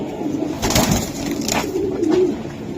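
Racer pigeons coo close by in soft, low, rolling calls that swell and fade a few times over steady background noise.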